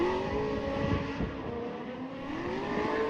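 A drift car runs a practice lap on a track at a drift competition, its engine droning and revving steadily from inside the car, loud and continuous with no talking.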